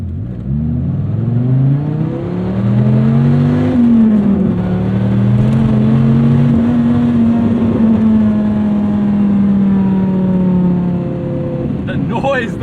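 A 2006 Dodge Viper SRT-10 Coupe's engine roars loudly from inside the cabin under hard acceleration, its pitch climbing through gears with a brief dip at a shift, sustained and dominant throughout.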